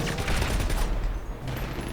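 Rapid gunfire in the game GTA V on a FiveM server, a dense loud burst of shots that fades into a lull after about a second.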